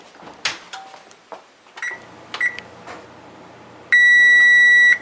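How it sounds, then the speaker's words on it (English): A kitchen oven timer sounds during baking of bierocks and hot pockets, a steady loud electronic beep held for about a second near the end after some clattering kitchen noise. "the timer has run"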